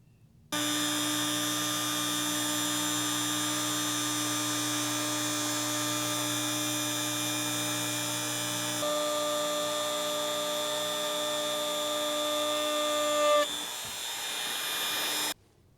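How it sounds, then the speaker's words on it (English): A router with a 1/4 inch round over bit runs at a steady high-pitched whine while rounding square wood edges for a Jeep platform. The tone stays constant and close for over ten seconds, shifts pitch slightly, then cuts off. "I'm using this 1/4 inch round over bit to smooth over those square edges"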